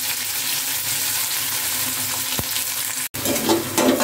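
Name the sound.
chopped onion sautéing with cumin in a pan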